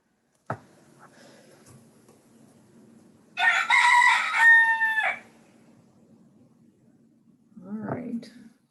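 A rooster crows once loudly and close, a long harmonic call of about a second and a half, followed later by a shorter cluck-like call, while a quiet background hum continues.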